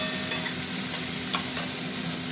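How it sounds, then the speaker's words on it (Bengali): Shrimp and tomatoes fry in a pan with a steady, close, loud sizzle and a few light stirring clicks, no voices. "চিংড়ি মাছের সাথে এই টমেটোগুলো একটু দিয়ে দিই। তাতে কি টমেটোটা একটু ভাজা ভাজা হবে"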